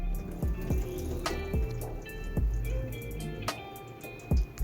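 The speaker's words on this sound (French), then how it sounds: "Donc là, j'enlève l'eau excédentaire." Soaking water being drained off alfalfa seeds, with a run of distinct drips and small splashes over a continuous trickle, close and moderately loud.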